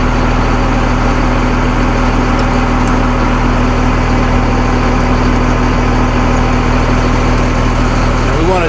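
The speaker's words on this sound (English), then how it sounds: "we want to check it while the engine is running" Forestry equipment engine idling, a steady, loud low drone with a constant hum that holds unchanged throughout.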